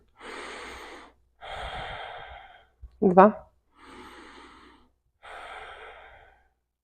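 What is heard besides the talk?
deep breathing during prenatal yoga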